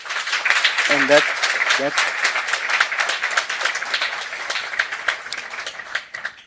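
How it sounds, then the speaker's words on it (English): Audience applause at a formal dialogue event, steady dense clapping throughout with a brief spoken interjection near the start. "Ladies and gentlemen, I'm sure we can do better with our applause."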